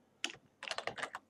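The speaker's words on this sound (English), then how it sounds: "which we do by typing in Safex Cash" Fingers typing on a computer keyboard to enter a coin name in mining software setup: one quick burst of keystrokes, a short pause, then a dense run of rapid clicks, close and fairly loud with no talk.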